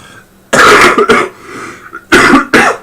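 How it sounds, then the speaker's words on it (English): Two loud, close bursts of harsh coughing and throat clearing, separated by a short pause. "That's the cough."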